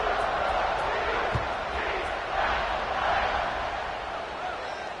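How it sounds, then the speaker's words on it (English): A football stadium crowd in a video game keeps up a loud, continuous buzzing roar after a score, with a voice talking over it. "this crowd is buzzing after that last score"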